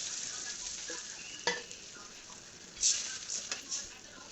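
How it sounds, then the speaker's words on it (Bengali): Katla fish curry sizzling in a pan as water goes in, a soft steady hiss with a few sharper bursts and stirring clatters, fairly quiet. "আমি দিয়ে দেবো এবার ঝোলের জন্য পানি।"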